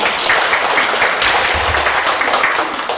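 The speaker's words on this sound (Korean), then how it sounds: "김준용 팀장님께 큰 박수 부탁드리겠습니다" Seminar audience gives a lecturer a big round of applause, steady dense clapping throughout a lecture hall with a faint voice briefly mixed in.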